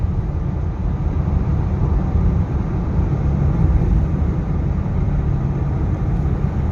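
Steady, loud low-pitched engine and road rumble inside an automatic car being shifted manually into fifth gear, continuous droning with no distinct change throughout.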